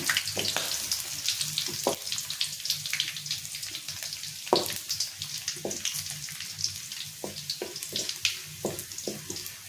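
Garlic roasting in hot oil for a puffed rice snack, a steady close sizzle and crackle with scattered sharp pops running throughout, no voices.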